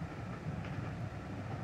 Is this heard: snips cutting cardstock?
no